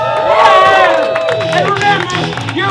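A live comedy sketch show audience cheering, shouting and applauding loudly in a crowded room, a continuous roar of voices with tonal yells rising over it.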